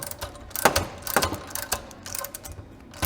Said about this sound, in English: So when Blair turns that wrench, it's gonna actually start pulling it off